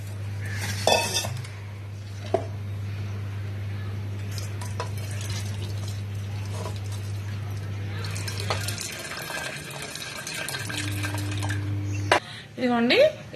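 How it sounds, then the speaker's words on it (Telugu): Excess cooking water poured off boiled lentils and ridge gourd in a pressure cooker pot, a steady close splashing pour with metal pot clinks, a brief tap-like hiss, and a few short bursts of voice near the end. "ఇందులో ఎక్సెస్ వాటర్ అంతా తీసేసుకున్నాము"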